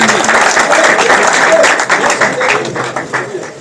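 Crowd clapping at a village welcome ceremony for a BJP politician in Bajana Kalan, Ganaur, with loud, close individual claps and a voice speaking alongside. The applause thins out toward the end.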